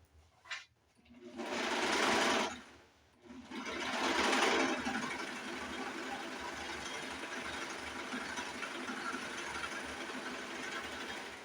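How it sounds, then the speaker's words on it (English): A serger stitches along the short end of a fabric headwrap in two loud, close bursts of rapid mechanical whirring with a short pause between them, then a quieter steady hum. "I'm going to turn my fabric the other way and serge down the shorter end"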